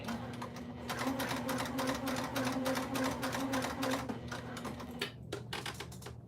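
Steady rapid stitching from a sewing machine joining the lining onto a Willow Wristlet bag, a close, continuous run of fast needle clatter that stops briefly near the end before a few final bursts.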